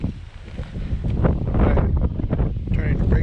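Wind buffets the microphone on a windy day outdoors while fishing, a continuous rumbling roar with uneven gusts that swell louder toward the end.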